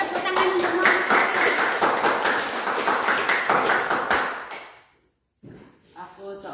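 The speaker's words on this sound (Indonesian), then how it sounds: "beri tepuk tangan untuk Muhammad" A school audience applauds for a presenter named Muhammad Arif, a loud, dense burst of clapping that holds steady for about four seconds, then fades and drops out before faint talk resumes.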